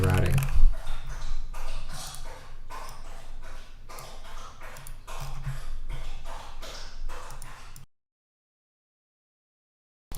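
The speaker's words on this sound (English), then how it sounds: "A very thirsty dog in the other room." A dog in another room laps water steadily, a fast run of wet, rhythmic laps that stops abruptly near the end, heard at moderate distance.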